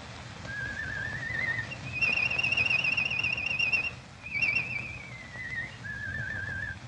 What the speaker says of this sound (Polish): Niech pan przestanie gwizdać, bo mnie to denerwuje.